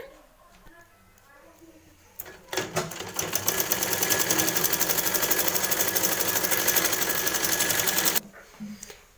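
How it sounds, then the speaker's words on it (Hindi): An electric sewing machine runs top stitching around the edge of a homemade cloth doormat: a sustained, rapid, loud mechanical whir of about six seconds, with quiet talk before and after it. "और उसके बाद अब इसके ऊपर से सिलाई एक लगाएंगे।"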